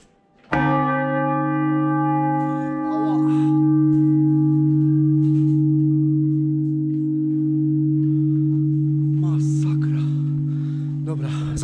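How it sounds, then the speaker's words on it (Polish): A large metal gong struck once inside an abandoned church: a loud, sudden hit that then rings on as a long, steady, humming drone with strong sustained overtones. A few faint voices murmur beneath the lingering tone. "Ale chciałbym walnąć w gong."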